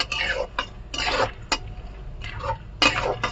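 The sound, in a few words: stirring chevdo in a pan after adding turmeric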